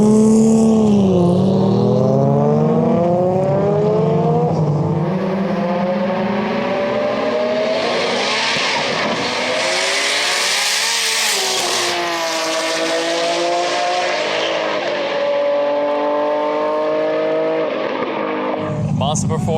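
A 1500hp R34 Skyline sedan with a 2.6L RB26 revving to 10,500rpm drag races a 1000hp rear-wheel-drive R32 street car. Loud, sustained high-revving engine roar rises and falls in pitch across gear changes, then cuts off sharply near the end.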